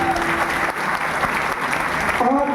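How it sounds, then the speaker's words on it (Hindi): A crowd at a company gathering in Ambedkar Nagar breaks into loud applause, a brief, dense wash of clapping with a faint voice or tone surfacing near the end. "त्रिलोकी प्रजापति जी के लिए जोरदार ताली।"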